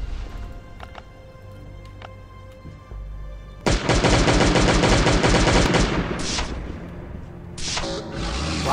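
Video game gunfire in Last Day on Earth: Survival: quiet clicks at first, then a sudden loud burst of rapid shots and booming blasts that keep going for several seconds, tailing off before a final crack.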